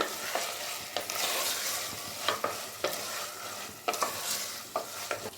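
Minced mutton keema fries with ginger-garlic paste in a pan, a steady bright sizzle broken by regular scrapes of the spoon every half second or so, close and alone.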